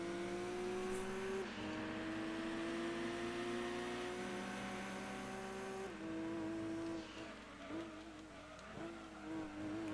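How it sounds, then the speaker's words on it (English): A Nissan Skyline race car engine in Gran Turismo 2 drones steadily with rising and falling pitch as it shifts gears, a continuous mechanical whine with faint tire noise. "you're just going to have to listen to the Skyline's engine sound"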